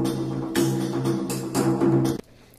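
Frame drum in an orchestral war-drums score playing busy sixteenth-note patterns and short notes, loud repeated strikes layered over a sustained low tonal bed, ending abruptly, no speech.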